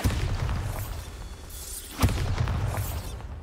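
A Bombarda spell blast in Hogwarts Legacy: a sharp, crackling explosive burst near the two-second mark over steady low game ambience, with fainter magical whooshes around it.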